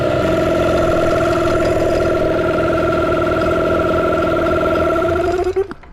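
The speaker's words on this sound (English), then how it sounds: "let's just fire the motor up and make sure it's working correctly" An outboard boat motor, being checked after refurbishment, runs loudly and steadily close by with an even droning hum, then cuts off abruptly near the end.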